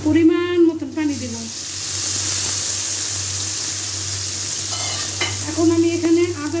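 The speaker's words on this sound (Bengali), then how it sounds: "এখন আমি পেঁয়াজটা সুন্দর মতন ভাজা ভাজা করব" Chopped onions frying in a pan for a rohu fish and parwal curry, a steady sizzle running under stretches of a woman's speech at the start and end, with some stirring scrapes.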